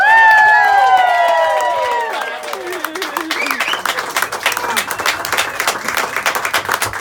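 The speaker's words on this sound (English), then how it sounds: "How about a big round of applause once again?" A live audience applauds and cheers after a singer's performance, the clapping building in after a sustained sung note fades and continuing steadily to the end, loud and close.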